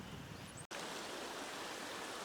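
Steady rushing flow of a mountain creek running through wooded rural property in Virginia, close and continuous, with a brief dropout near the start.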